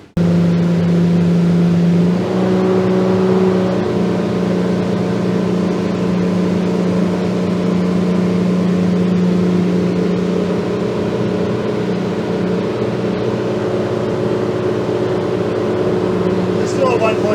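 An outboard motor drives a Seaking Hunter 720 boat at a steady 3600 RPM cruise, a loud continuous engine drone with a strong low hum, running close and unbroken, with a voice speaking over it.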